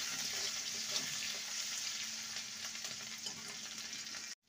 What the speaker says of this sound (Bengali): আদাটাকে ভালো মতন ভেজে নিয়েছি।